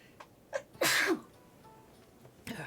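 A single sharp sneeze bursts out amid quiet room noise, with a couple of small breaths and throat sounds before and after.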